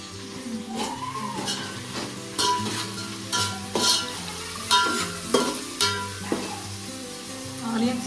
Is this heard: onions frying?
yes